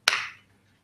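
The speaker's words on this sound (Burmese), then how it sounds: "လက်ခုပ်လေးတီးလိုက်တယ်" A single sharp hand clap, close and crisp, with a short decay into quiet.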